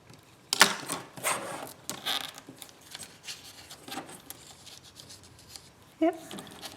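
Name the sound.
trimming paper with scissors for an envelope journal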